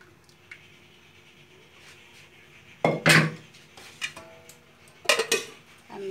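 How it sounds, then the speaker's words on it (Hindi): Cooked drumstick dal being moved into another pot in a home kitchen, heard as a few loud clanks and scrapes of metal utensils against the pot over a quiet background. "अब मैं इसे दूसरे बर्तन में डाल लेती हूँ।"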